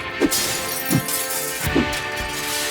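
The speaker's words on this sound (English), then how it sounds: "With his pickaxe, the polar bear went from house to house, smashing the glass walls" Glass walls are smashed with a pickaxe, three sharp shattering crashes at even intervals, each followed by tinkling debris, with music playing underneath.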